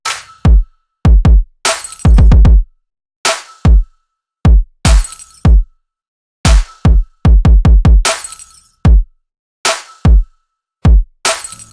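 Layered trap snare drum samples arranged into a rhythmic pattern, loud sharp crisp hits alone, some single, some in quick rolls of three to five, spaced irregularly across the bar.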